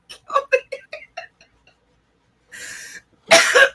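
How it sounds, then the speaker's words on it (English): Someone with a lingering cough from a sinus infection breaks into a rapid burst of short, dry coughs, then after a pause gives a breathy rasp and one harsher cough, close up during a casual podcast conversation. "I have this lingering cough from a sinus infection"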